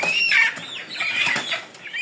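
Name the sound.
day-old chicks chirping while being loaded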